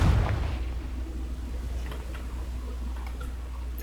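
A Confringo blasting spell from Hogwarts Legacy goes off in a sharp explosive burst at the start, then trails into a low, rumbling boom with faint ticking debris.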